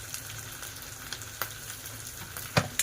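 Spice masala of chilli powder, coriander-cumin powder, asafoetida, Kashmiri chilli and turmeric sizzles in hot oil for a dried bombil curry, a steady close crackle broken by a few scraping stirs.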